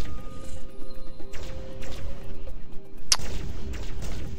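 Gunfire from troopers during a boarding action in the space video game Starpoint Gemini 2, a few sharp cracks and bursts over a steady rumbling background, including one loud, bright shot near the end.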